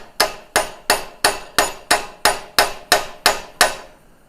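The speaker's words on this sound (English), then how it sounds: "Then we'll peen that one down just so it don't fall out." Hammer peening down a rivet in metal, eleven sharp ringing blows struck at a steady even rhythm, close and loud, each decaying quickly before the next.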